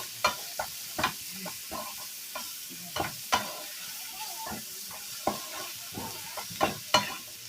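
Spice paste fries in ghee for a Bengali sole fish curry, stirred with repeated scraping strokes against the pan over a constant low sizzle, each stroke a distinct close scrape in an irregular rhythm.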